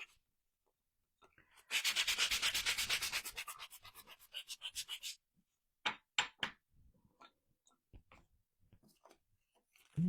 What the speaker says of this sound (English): I like to really sand the edges.